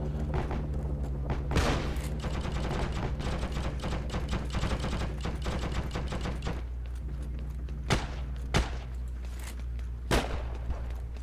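Gunfire in Heroes and Generals, a long run of rapid clicking shots over a steady low rumble, then a few separate louder reports spaced apart, no talk.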